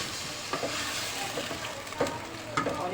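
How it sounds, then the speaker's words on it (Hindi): Mutton sears in a pot with bay leaf, giving a steady sizzle with a few sharp scrapes and knocks as a spoon stirs it, close and without talk. "अब इसको चम्मच चलाते फिर हल्के हल्के भून लेंगे।"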